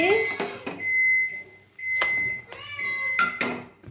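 A cat meows several times in a home kitchen, a few drawn-out tonal cries with clicks between them, while a person talks over it.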